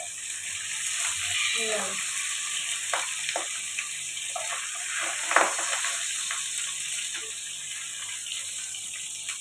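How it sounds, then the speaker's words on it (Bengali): Pabda fish frying in hot oil, spluttering and crackling with sharp pops over a constant sizzle, while someone speaks a few words near the end. "পাবদা মাছ ভাজবার সময় এত ফাটে না, তেলে তো বাপরে বাপ"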